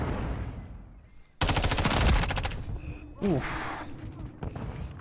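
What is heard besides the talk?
MTZ-556 gunfire in video game Call of Duty Modern Warfare 3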